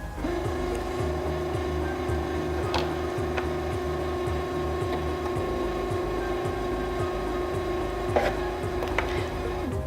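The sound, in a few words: Singer Featherweight C240 sewing machine winding a bobbin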